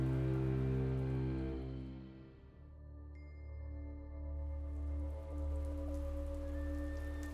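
Rain falls steadily as a sound effect in a narrated story, a continuous hiss of drops that eases and dips briefly before swelling back, heard alone without voices.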